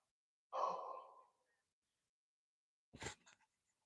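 A single long breathy exhale, like a yawn or sigh, comes close and alone from a live commentator watching a UFC event, followed after a pause by a short rustling breath.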